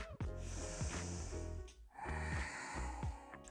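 Deep breaths during a Ukrainian yoga session of pelvic floor exercises, audible as slow nasal inhales and exhales, quiet and close, in a couple of long cycles with a breathy rasp.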